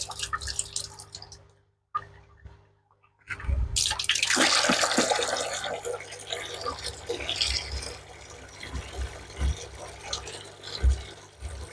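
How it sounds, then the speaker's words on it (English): A container fills with RO water for an aquarium water change: after a few faint drips and a pause, a steady splashing, gurgling stream of water runs continuously at close range. "Just while I'm doing these water changes, filling up with the RO water"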